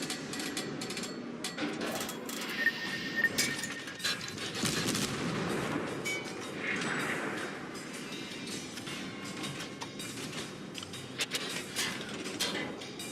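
Naval ship gunfire in the World of Warships video game, with repeated sharp cannon blasts and mechanical clatter scattered over a dense, rumbling battle background.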